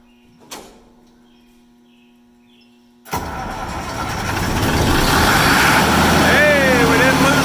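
Massey Ferguson 550 combine engine cranked over on boost: a quiet hum and a brief click, then the diesel catches with a sudden roar and builds to a loud, steady run, with a short whistle near the end.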